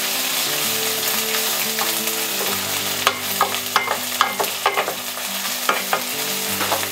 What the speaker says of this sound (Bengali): পেঁয়াজটা একটু লাল হয়ে গিয়েছে, এখন আমি একটু আদা ছেড়ে দিচ্ছি, রসুন পেস্ট ছেড়ে দিচ্ছি। এটা একটু ভুনা করতে হবে